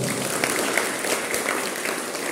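An audience at a motivational talk at an ITI gives a sustained round of applause, steady and fairly close, filling the whole moment with no speech on top.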